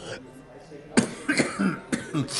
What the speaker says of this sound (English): we're going to have a coughing attack this time?